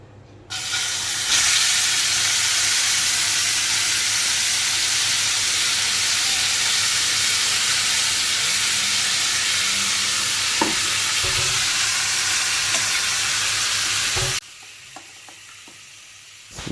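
Soya tikka cooks in ghee on a pan over a low flame, giving a sustained close sizzle and hiss with faint utensil scrapes and clinks. The sizzle stops abruptly near the end, leaving only quiet handling noises.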